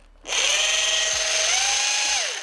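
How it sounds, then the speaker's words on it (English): A small power drill spins up sharply and runs at a high whine for about two seconds during house rewiring, its pitch dipping briefly under load before winding down. "I've been downgraded to the little drill."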